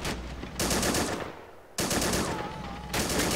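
A machine gun fires in the video game MOWA2, letting off loud, rapid bursts with a short quiet pause between them, no voices present.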